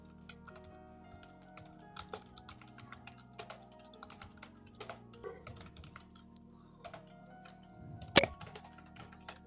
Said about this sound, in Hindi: उसका जो भी फ़ोन नंबर है वो इस तरह से टाइप कर देता हूँ।